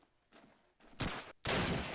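Gunfire in a competitive team shooter match at a LAN event: dense bursts of rapid shots arrive in loud, sharp volleys, growing heavier toward the end.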